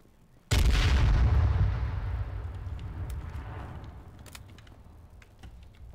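A grenade blasts in a video game with one sudden loud boom, then a long rumbling decay that fades over several seconds, with no voices.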